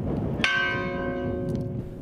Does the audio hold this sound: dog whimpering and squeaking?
no